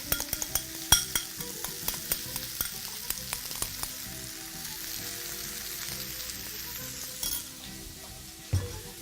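Peri peri chicken skewers sizzle and fry steadily in a pan, with scattered sharp clicks and light clinks of utensils against cookware over the continuous hiss.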